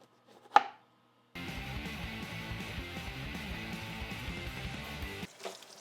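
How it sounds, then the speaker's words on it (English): A knife chops vegetables on a board with a steady rapid rhythm of close, crisp strikes, after an isolated clatter and a brief pause. "let's chop the vegetables"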